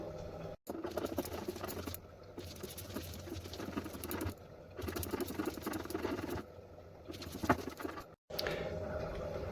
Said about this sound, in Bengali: এবার আমি এটাকে খুব ভালোভাবে বেটে নিই অত বেশি মসৃণ করার দরকার নাই